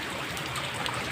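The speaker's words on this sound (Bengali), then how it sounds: "এইটুকু ড্রেন দিয়ে জল যাচ্ছে" Rainwater runs out through a small drain after heavy rain, a steady close trickle and splash of flowing water that continues evenly throughout.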